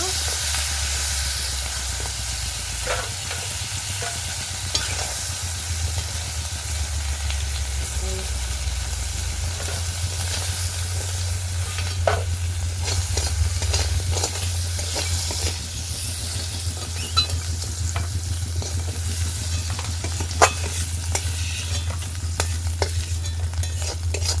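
Crabs frying in oil in a pan give a continuous dense sizzle and crackle throughout, with steady hiss, occasional sharp pops and a low background hum underneath.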